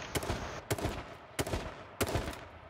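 Four evenly spaced gunshots ring out in H1Z1 King of the Kill, each a crisp crack with a short tail, at moderate loudness with no talk over them.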